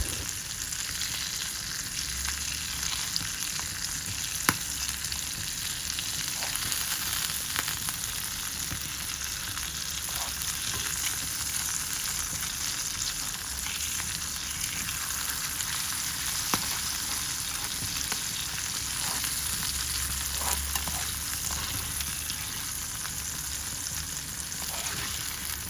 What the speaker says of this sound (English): put some of the oil and the butter on the salmon, move things around a bit, and then you can let it to cook